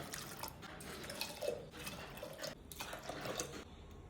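Water is poured onto chana dal in a pressure cooker in a few faint, splashy bursts with brief pauses between them, quiet and close.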